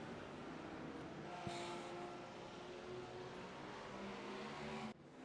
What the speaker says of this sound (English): As GTP gonna go by there, the Cadillac, the best sounding car in all of motorsports